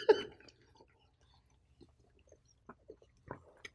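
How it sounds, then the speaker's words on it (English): A person chews food close to a microphone, giving a loud initial crunch followed by sparse, quiet mouth clicks and chewing noises separated by silence. "I'm trying not to chew in my microphone."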